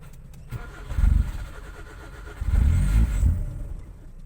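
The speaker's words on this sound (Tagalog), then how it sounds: "paandarin ko yung kotse ko" A car with a carburetor problem cranks and starts twice, each attempt a low, rough rumbling burst that fades back to a quiet idle, the second attempt longer and louder than the first.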